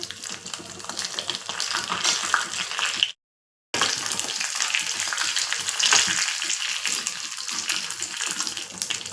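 A tempering of cumin, curry leaves, fenugreek seeds and red chili sizzling in hot oil, a loud close crackling hiss that runs steadily, drops out briefly, then resumes just as intense.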